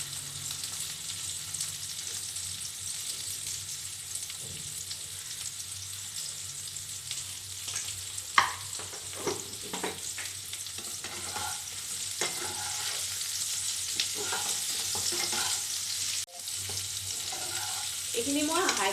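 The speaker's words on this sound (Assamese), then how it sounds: "এখিনি মই হাই ফ্লেমত ফ্ৰাই কৰিম" Eggs fry in a pan over a high flame, a continuous close sizzle broken by stirring scrapes and a few knocks against the pan.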